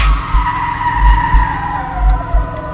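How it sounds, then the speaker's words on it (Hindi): A car in traffic skids and strikes the player in the horror video game Fears To Fathom, with a loud drawn-out tire squeal over a rumbling engine and several heavy low thumps, no voices. "भाई सड़क पे ट्रैफिक ने मार दिया यार"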